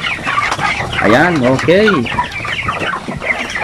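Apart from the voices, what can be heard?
chickens clucking on a poultry farm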